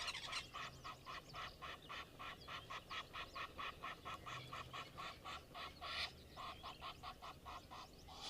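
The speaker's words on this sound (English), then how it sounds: "You can just hear the goose warfare going on." Geese honk and squabble continuously in the open African bush, a dense, rhythmic chorus of harsh repeated calls from a flock at moderate distance, steady throughout.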